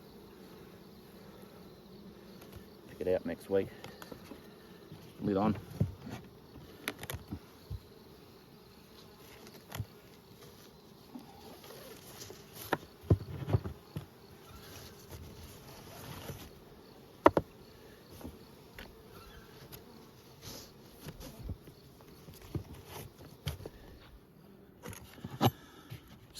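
Honeybees buzzing around an open ten-frame hive, a faint, steady hum broken by scattered knocks and clunks of hive parts being handled, with brief quiet speech.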